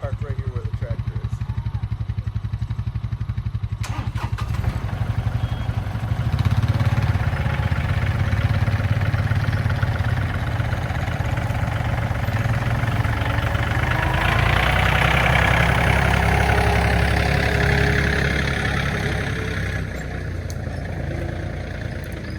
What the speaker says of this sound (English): I'm going to move the tractor